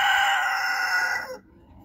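A backyard rooster crows once, a loud, close, drawn-out call that holds steady for over a second and then cuts off into quiet.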